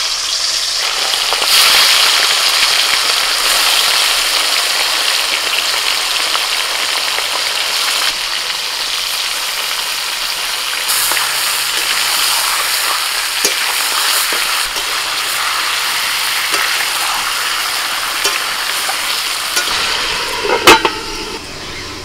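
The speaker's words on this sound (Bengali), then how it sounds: "এবার কড়াইতে বেরেস্তা ভাজার যে তেলটা আছে ওই তেলের মধ্যে চিকেন দিয়ে দিচ্ছি" Spice-marinated chicken frying in the oil left from frying onions for biryani, in a kadai: a loud, steady, close hiss and crackle of sizzling oil throughout, with a few sharper pops near the end.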